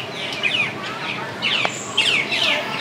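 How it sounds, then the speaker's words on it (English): Several bright bird chirps and tweets ring out nearby in quick irregular bursts over a steady outdoor background hiss at Disney's Animal Kingdom. "Look, there's a bird right there."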